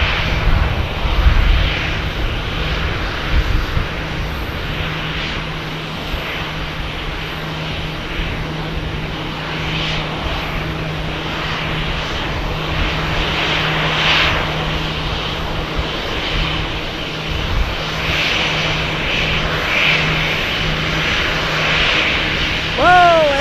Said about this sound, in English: There is our moonwalker guiding in. The United flight from Denver.